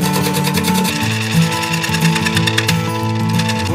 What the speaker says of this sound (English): Hear that chatter, that's my warp.